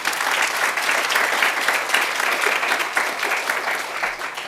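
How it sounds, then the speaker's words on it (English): An audience applauds at the grand opening of a Junior Achievement finance park, a dense, steady wash of clapping that holds at fairly strong level throughout and tapers slightly at the end, with no voices over it. "So let's give him another round of applause."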